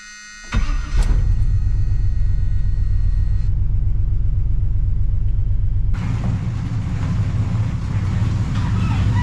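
A car fitted with Flowmaster mufflers and an exhaust H-pipe starts up and settles into a loud, close, steady low rumble that shifts in tone partway through as it keeps running.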